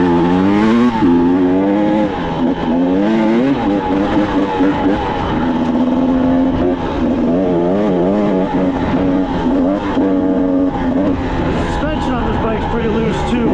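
Older KTM dirt bike ridden along loose woodland trails, its engine buzzing and revving continuously up and down through the gears, close and loud throughout.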